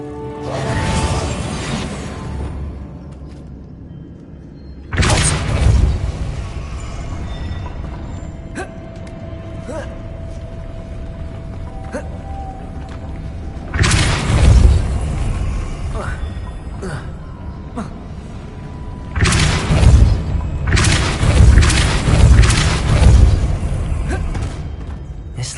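The Depulso force spell in Hogwarts Legacy hurls objects in a goblin vault, giving three loud whooshing blasts with crashing debris spaced several seconds apart over a low rumbling ambience, while a voice talks between them.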